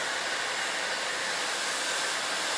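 A Harry Josh blow dryer blows steadily on hair, a loud, even broadband rush of air that holds without a break from start to finish, with no talking.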